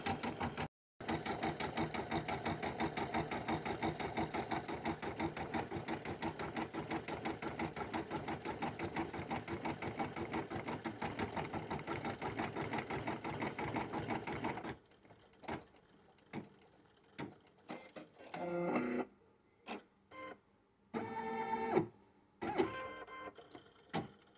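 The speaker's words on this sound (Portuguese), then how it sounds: "Eu vou deixar a máquina bordando aqui" A sewing-style embroidery machine stitches with a fast, steady mechanical whir and rapid needle chatter for about fifteen seconds, then switches to short, separate bursts of motor movement and clicks with quiet gaps between them, no talking.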